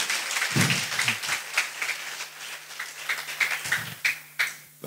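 A crowd applauds steadily, a dense patter of many hands clapping with brief low murmurs underneath, sustained for several seconds.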